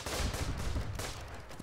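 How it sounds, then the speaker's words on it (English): Artillery fire in the World War I trench game Running in the Trenches: a rapid, dense burst of booming shots that rumbles steadily and loudly for its whole length. "Set off the artillery."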